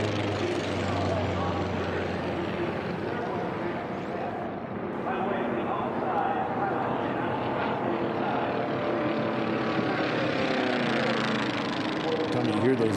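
Formula One class racing airplanes with Continental O-200 engines round a pylon course in a continuous droning engine roar. A voice seems to talk over it.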